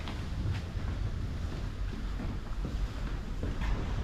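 Steady gusty wind rumbles and buffets the microphone atop an open grain tower, a continuous low roar with no voices, like standing somewhere high and exposed.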